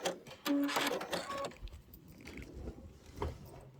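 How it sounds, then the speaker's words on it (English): A sewing machine back-stitches a tote bag seam in short bursts, faint whirring runs broken by pauses and small clicks, heard close at low volume. "You always want to back stitch that."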